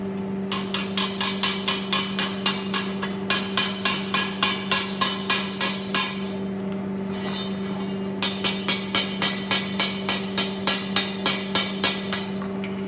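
Steady, rhythmic hammer strikes ring out on metal while cleaning up welds, about two blows per second in two long runs with a brief pause between them, over a constant low electrical hum.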